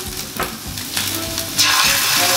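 Chopped onions frying in hot oil, a loud close sizzle broken by stirring scrapes, swelling louder in the last second.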